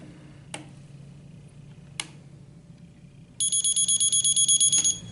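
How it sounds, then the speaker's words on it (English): A Med-E-Lert pill dispenser sounds alarm tone A: a loud run of rapid, evenly spaced high electronic beeps lasting over a second, following two faint clicks as buttons are pressed, with no voices. "Now we'll set it for alarm tone A."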